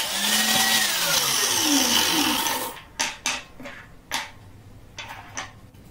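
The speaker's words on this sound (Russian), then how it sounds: "сейчас опять же на своем станочке под размер все гвозди обрезаю" A small bench-mounted cutting machine trims metal nails to length: a loud whining grind for about three seconds, then a series of short sharp cutting bursts, close by with no talking.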